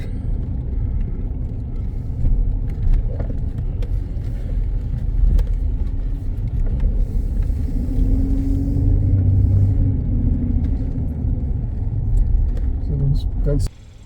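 A car rolling slowly along a tight winding drive toward a farm restaurant's parking lot in Virginia's rolling hills, a steady low engine rumble close by throughout, with a person talking over it.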